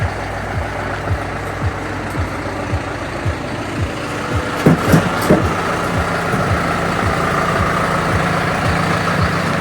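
A John Deere 6420 S tractor drives along with a steady, heavy diesel rumble close by, marked by regular ticking knocks and a brief cluster of louder clanks partway through.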